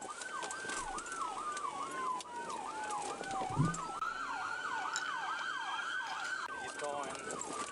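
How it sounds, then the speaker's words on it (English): Emergency vehicle sirens wail continuously and loudly, the rising and falling pitch cycling rapidly as they pass along a road, with a brief thud partway through. "Alright, these sirens, bro. They starting to piss me off."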